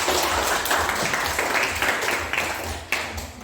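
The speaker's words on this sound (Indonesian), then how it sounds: "Iya, tepuk tangan buat" Students in a classroom clap together after a presentation, a dense, steady patter of many hands at close range that carries through the whole moment and fades slightly toward the end.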